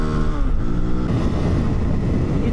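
A KOVE 450 Rally motorcycle engine pulls steadily at low speed in third gear, a continuous loud, throbbing drone with layered harmonics and no break throughout.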